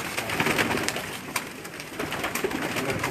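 Breeder pigeons coo softly in a series of low, rolling calls, fairly close and steady over a faint background, with no one speaking.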